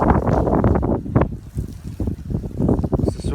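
Strong gusts of wind in a storm in 10th of Ramadan City sweep rainwater across a market, buffeting the microphone in loud, uneven bursts that rise and fall.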